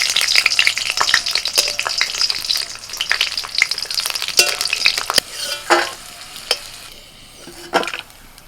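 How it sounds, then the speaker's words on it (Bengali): Dried red chillies and garlic cloves frying in oil, a loud, bright crackling sizzle that fades after several seconds, with sharp clinks and scrapes of stirring scattered throughout and a few isolated taps near the end; no talking. "কয়েকটা শুকনো লঙ্কা আমি তেলের মধ্যে ভেজে নেব"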